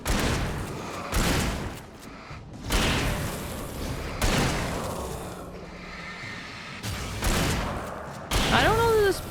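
Shotgun blasts in the video game Alan Wake: several loud, booming shots fired a second or two apart, each with a short ringing tail, over a dark ambient game soundscape.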